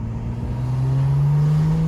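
A car engine with an aftermarket intake hums under the hood and revs up steadily, its rising drone growing louder over a couple of seconds.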